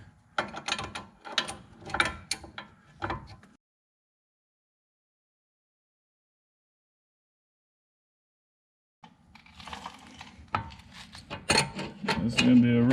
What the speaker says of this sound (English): So get your 10 millimeter socket on there,